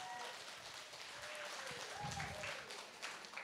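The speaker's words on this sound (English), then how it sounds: "Please give a round of applause for him." Audience applause at a Ruby Jubilee celebration, a steady wash of clapping that continues evenly for several seconds, with faint tonal sounds running beneath it.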